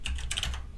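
Someone types a command on a computer keyboard while setting up a Raspberry Pi digital photo frame, producing a short, close burst of quick key clicks.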